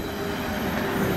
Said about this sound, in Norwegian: Her har vi IC3-toget.